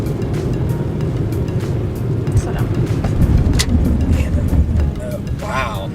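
A car rolls along the road with a constant low rumble of engine and tyre noise heard from inside the cabin, while people talk over it.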